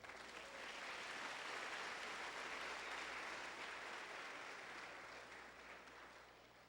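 A church congregation applauds in praise of the King of Glory, a broad, even wash of clapping that swells quickly, holds steady, then slowly tapers, heard faintly from a distance.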